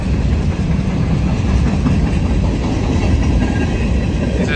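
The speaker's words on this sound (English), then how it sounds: "I love CSX grain trains." A CSX grain train of hopper cars rolls past close by on a snowy night, a continuous loud rumble of wheels and rail noise with no voices.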